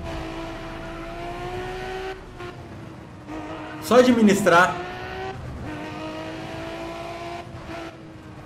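Tuned Nissan Skyline in Need for Speed ProStreet, engine droning and shifting through gears with a burst of louder revving and squeal midway, under a man's speech.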